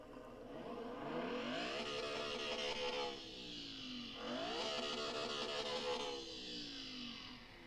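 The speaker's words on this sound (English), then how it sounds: "we're gonna start the car though" A modded car engine in Car Mechanic Simulator 2021 revs hard in repeated sweeps, pitch climbing and dropping in three rising pulls with a steady whine underneath, no voices.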